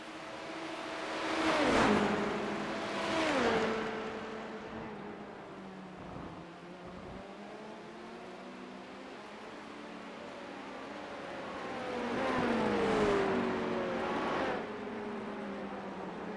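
LMP2 race cars at Le Mans in the rainy iRacing video game sweep past with rising and falling engine drones, two distinct passes separated by a quieter stretch of steady motor hum, fairly faint.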